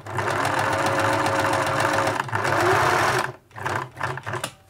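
A 1980s Singer Futura sewing machine runs with a loud, continuous mechanical whir and rhythmic clatter. It stops briefly near the end, then runs again in short bursts.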